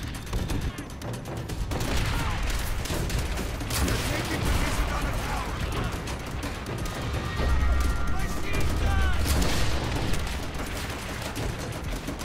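Sustained battlefield gunfire in the video game Call of Duty: World at War, with steady automatic bursts, booming impacts and clattering mechanical noise continuing throughout.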